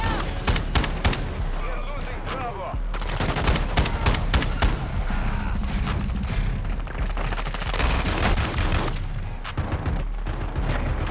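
Bursts of automatic gunfire from Call of Duty: Modern Warfare II multiplayer, loud, rapid and repeated, with short pauses between volleys while players talk over the shooting.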